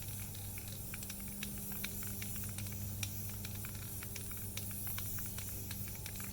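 Steady aerosol hiss from a spray paint can painting yard sign letters, running throughout, with faint clicks and a low hum underneath; no voices.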